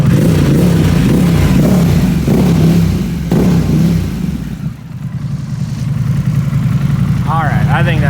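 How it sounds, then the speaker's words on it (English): A Harley-Davidson Pan America fitted with a Vance and Hines exhaust revs up loudly, holding a deep rumbling drone, dropping briefly to a lower idle, then building again, with people talking faintly over it. "Let me know what you think about that new exhaust. I think it sounds pretty cool."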